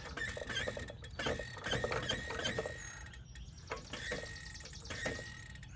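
A Mercedes-Benz K-Jetronic fuel injector sprays fuel mixed with air from a low supply, giving close, rapid sputtering and hissing bursts with mechanical rattling that stop and restart.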